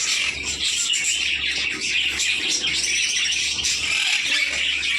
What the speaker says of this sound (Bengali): এদিকে আছে ব্লু মার্কস লাভ বার্ড, এটা মেল।